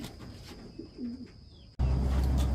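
A soft racing pigeon coo rises and falls once amid quiet outdoor ambience, then a loud low rumble of wind or handling noise abruptly takes over.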